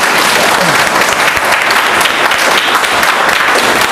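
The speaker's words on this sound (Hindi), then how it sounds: "ताली बजा दो" Dense, steady applause from a meeting audience at a Vestige network-business training session, loud and continuous throughout with a faint voice mixed in.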